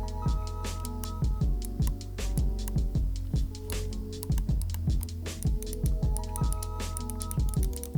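Rapid, crisp clicks from a Marvo G901 macro gaming mouse repeat in quick bursts, close up and distinct, with short pauses between runs and no talking.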